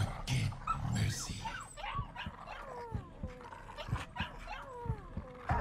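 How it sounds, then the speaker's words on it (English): Dog whimpers and yips in the horror game Layers of Fear 2, a run of short high cries and soft barks over a dark ambient game backdrop, fairly close and steady throughout. "Oh, the puppies!"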